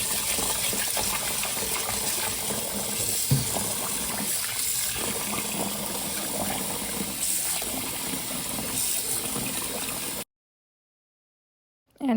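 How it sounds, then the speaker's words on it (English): Tap water gushes steadily while rice is rinsed in a home kitchen, a continuous close splashing flow with small clatters, then it cuts to silence near the end. "rinse your rice probably 3 times or more"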